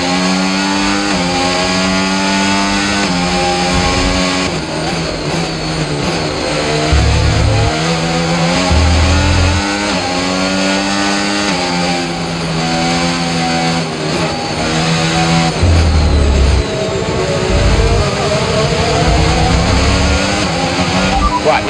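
Racing-game F1 car engine running hot mid-race in F1 25, a loud, continuous high-pitched whine that rises and falls with revs and gear changes, steady and up close throughout.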